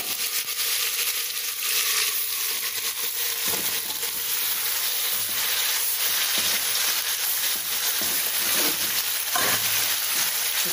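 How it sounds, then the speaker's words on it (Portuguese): Beef cupim sears in a hot pan with onion, a loud continuous sizzle and hiss with crackling spatters, steady and close throughout with no speech. "Agora eu volto a carne de novo."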